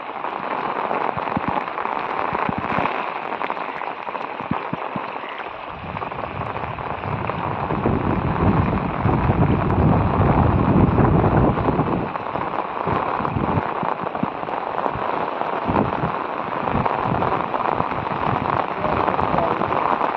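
Rain pours steadily on a village, a dense, continuous hiss of drops on surfaces that swells louder midway and carries on without pause.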